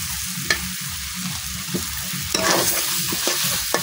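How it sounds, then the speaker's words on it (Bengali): Fried potatoes and taro added to a masala in a pan, stirred with steady scraping and a soft sizzle, with a few sharper clacks of the spoon against the pan, close and alone. "এখন এই মশলার মধ্যে আমি দিয়ে দেব ভাজা রাখা আলু আর কচুর মুখিগুলা।"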